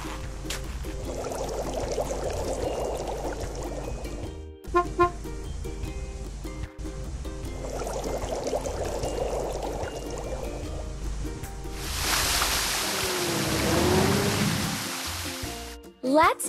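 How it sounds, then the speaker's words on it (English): Water poured into a toy water truck, a gushing splash in two bursts, then a louder broadband rush of flowing water near the end, with a faint tonal hum underneath. "Let's fill it with water and turn the fountain on."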